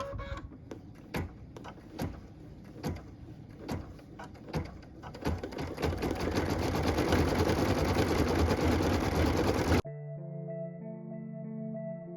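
A sewing machine stitches ginger-gold thread onto a Christmas tree skirt, first in short ticking bursts and then in a steady, close whirring run; soft music takes over at the end.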